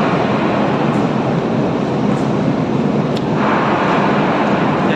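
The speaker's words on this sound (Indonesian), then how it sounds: "Oke, sekarang aku udah berada di dalam kapal besar." Steady, loud broadband rumble and hiss inside a large car ferry crossing between Sumatra and Java, a constant engine drone with faint clanks and no voices.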